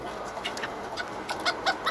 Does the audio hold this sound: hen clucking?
yes